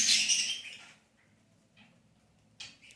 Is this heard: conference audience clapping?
no